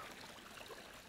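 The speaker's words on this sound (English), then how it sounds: "with the water overflowing. Great little waterfall." A small backyard waterfall overflows, giving a steady, soft trickling splash of water with no other sounds.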